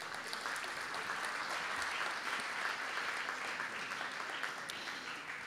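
Steady, dense applause from an audience at a reading and photography contest award ceremony honours the winners, sustained evenly throughout without a break.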